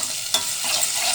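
Onion and green chillies frying in oil for keema curry, a close, even sizzle with a single stirring scrape partway through, no talking.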